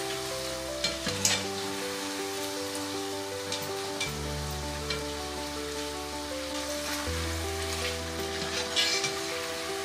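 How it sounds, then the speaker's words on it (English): Homemade french fries deep-frying in hot oil, a steady close sizzle with occasional crackling bursts over background music with sustained chords. "Probably gonna fry them at least until golden brown"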